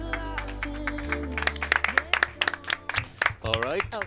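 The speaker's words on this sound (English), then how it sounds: "Give him a round of applause, guys!" An audience applauds at a speedrun marathon event, with a burst of scattered, rapid clapping after a few seconds of music-like tones, loud and close, while a host's voice carries over it.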